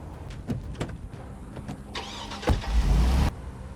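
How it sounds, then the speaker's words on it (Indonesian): An SUV engine in a film scene cranks and catches, then runs with a mid-pitched rumble that swells toward the end, mixed with scattered clicks and thuds inside the vehicle; no one speaks. "Di dalam perjalanan menggunakan mobil SUV, Lucky yang disekap di dalam bagasi"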